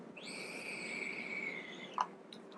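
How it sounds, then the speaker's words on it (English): A handmade game call, a clone of The Don with a hole dug out by hand, gives off a thin, sustained whistle with airy overtones, fairly close and clean, ending in a short sharp blip. "my hole that I built or I dug out, it's giving me a little whistle"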